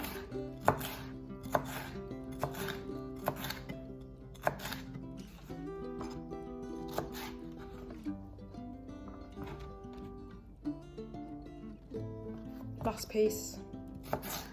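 Knife chopping bell pepper pieces in half on a cutting board, a steady run of sharp close chops with brief pauses, a few words spoken midway.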